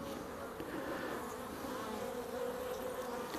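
Honeybees handled by a beekeeper, a continuous close, steady buzzing hum with no talk over it.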